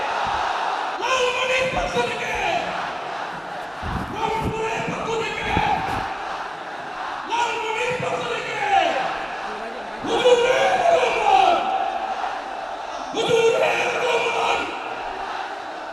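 A large religious gathering in Lalmonirhat shouts the takbir in unison, with repeated loud bursts of massed voices echoing in a big crowd, each answering call and response from the preacher.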